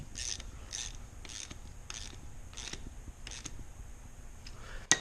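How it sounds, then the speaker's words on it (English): Quick ratchet clicks in short bursts, about seven evenly spaced runs, as a bolt is tightened down on a chassis dyno tie-down strap. The sound is close and clear against a quiet background. "we take a ratchet and we tighten down"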